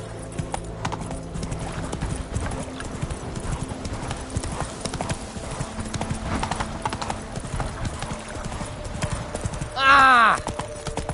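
A horse gallops in Witcher 3, its hooves pounding out a steady, close clip-clop rhythm throughout, with a short whinny rising near the end.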